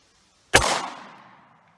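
A single 9mm pistol shot with a 115 gr load, fired through a chronograph from about five feet away, one sharp loud crack with a short ringing decay that fades within about a second.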